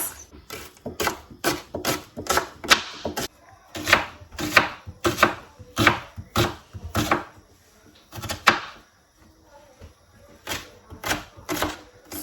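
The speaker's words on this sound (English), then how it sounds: "So I'm slicing 2 of the 3 onions into tiny bits, and I'm going to add it into my beans to cook the beans." Knife chopping two onions into tiny bits on a board for Nigerian oloyin beans: rapid bursts of sharp, close taps in quick runs, pausing briefly between runs, with no talking.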